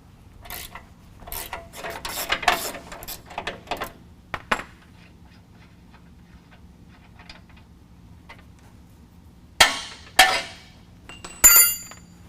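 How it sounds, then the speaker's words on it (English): An 18 mm socket breaks loose the tow hook bolts on a 2019 GMC Sierra 1500, giving scattered metallic clinks, scraping and short ratcheting bursts, with louder clicks near the end. "Then we're going to use an 18 millimeter on each side and break that loose."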